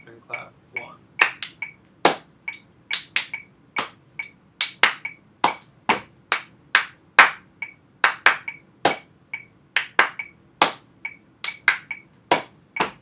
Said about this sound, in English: Here is stomp and clap, A twice, B twice, C twice.